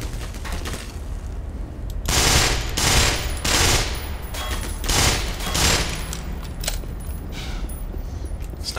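Machine-gun fire in the shooter video game Black Mesa comes in loud, close bursts. About seven rapid volleys, each roughly half a second long, sound over a steady, noisy background with no speech.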